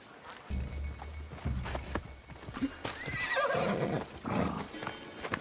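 Black stallion with a white mane whinnies loudly in Assassin's Creed Odyssey, a rising, shaky neigh over galloping hooves and rumbling ground noise, close and prominent.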